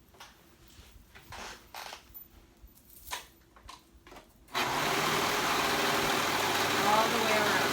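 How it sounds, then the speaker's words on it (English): A serger stitches the edge of a pocket on a pair of kids' moto-style pants, running as a loud, steady hum through the second half after quiet handling sounds and soft talk. "I'm going to serge that together"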